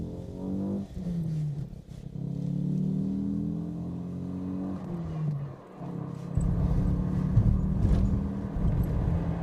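A Lancia Gamma Berlina's four-cylinder engine pulls through repeated rising sweeps as the car accelerates, moderately close and steady, climbing in pitch with each gear before settling into a fuller, louder drone near the end.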